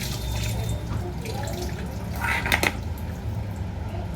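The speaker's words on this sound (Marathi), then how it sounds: "टमाटा पण कापून घेते, धुवून घेते" Cut tomatoes are rinsed under running water from a kitchen tap, a steady gentle splashing with a few brief clinks and louder splashes midway, close by.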